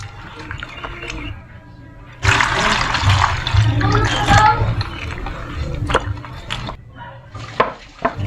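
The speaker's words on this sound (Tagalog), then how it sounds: "Ayan, tapos hugasan natin." Taro leaves washed with running water for laing, a steady splashing and rushing flow that swells loudly midway, with some clatter and drips, close by and without talk.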